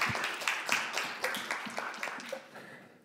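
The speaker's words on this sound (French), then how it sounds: "On peut l'applaudir." Applause from a lecture audience about connecting artificial intelligence to the brain, a burst of many hands clapping that fades over about three seconds.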